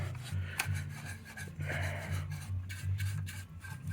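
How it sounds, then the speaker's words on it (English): A big soft paintbrush gently whisks loose dust off the chassis of an old Blaupunkt Florenz tube radio, giving quiet rasping, rubbing strokes close up over a low steady hum. "with a paintbrush real gently, like a big soft paintbrush, just to knock the loose dust off"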